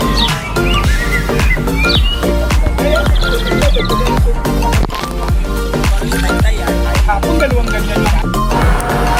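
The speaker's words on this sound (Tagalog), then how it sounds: "Mga ibon guys." Birds at the Manila Bay waterfront call in busy, overlapping chirps and whistled notes, loud and close, over a steady low rumble of the bay setting.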